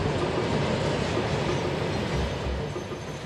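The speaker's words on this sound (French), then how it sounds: "They say this is the longest train in the world. 3 miles of wagons." A very long freight train loaded with steel rattles along the tracks in a dense, continuous rumble and clatter, heard close and fairly loud throughout.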